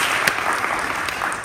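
A crowd at a celebration for a theater teacher claps in a short, dense burst of applause.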